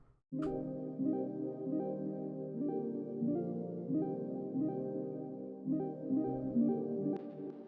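Soft synth pad chords pulse in a syncopated, bouncing 808-style rhythm for a beat, sustained tones retriggering in a steady pattern at low volume.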